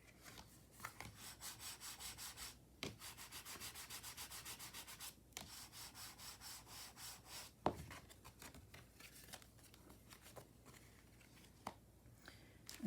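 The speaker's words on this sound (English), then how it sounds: "I'm going to go ahead and give that a good burnishing with my bone folder." A bone folder burnishes a paper card in repeated close, dry rubbing strokes, with rhythmic scraping passes broken by short pauses and occasional taps. No one speaks.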